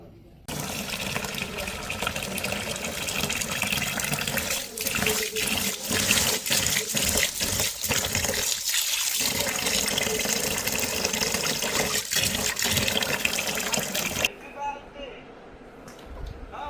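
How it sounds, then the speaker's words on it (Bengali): Rice grains being washed in running water beside a cooking pot, a steady loud rush of tap water and swishing for most of the stretch before stopping abruptly near the end. "আর এই পাশটায় চালগুলো আমি ভালো করে ধুয়ে নেই"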